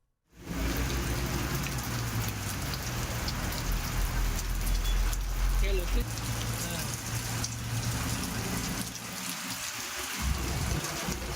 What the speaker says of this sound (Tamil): கோவை மற்றும் மாவட்டத்தின் பல்வேறு பகுதிகளில் பரவலாக மழை பெய்து வருகிறது.